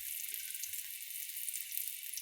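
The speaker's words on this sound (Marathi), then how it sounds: "असं तेलात फ्राय द्यायचं बघा" Vegetables frying in hot oil, giving a steady bright sizzle that holds evenly throughout, close and continuous with no talk.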